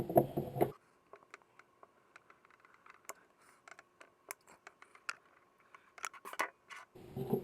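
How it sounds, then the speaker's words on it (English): Paracord strands for a watch band are snipped to length with scissors: a scattered series of small, sharp, close clicks and snips over a quiet background, with brief muffled handling noise at the start and end. "Cut them to what length you need them."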